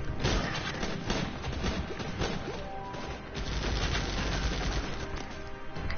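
Dense, continuous gunfire in the Guns Up video game aimed at a turret, loud crashing shots and impacts blending into a steady barrage without pause.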